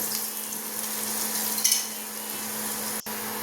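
Potato slices frying in a little oil in a pan, a steady close sizzle with a brief spike of crackle midway and a sharp click near the end.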